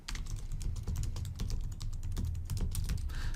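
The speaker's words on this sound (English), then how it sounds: "this is where I would type up the consent" Steady typing on a computer keyboard, with quick irregular key clicks continuing close and alone throughout.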